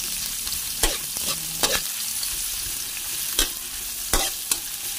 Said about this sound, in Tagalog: Halo-halo sa sibuyas at bawang.